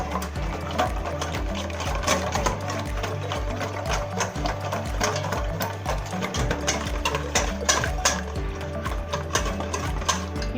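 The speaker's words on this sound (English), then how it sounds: "Now we're going to whisk this" Eggs being whisked for cinnamon French toast, a fast, continuous mechanical whirring and rattling throughout, close and loud with a steady driving rhythm.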